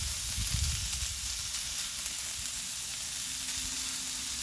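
Thin-sliced pork hits a hot Blackstone griddle and sizzles, a loud continuous close hiss with a brief thump as the meat lands at the start, no speech.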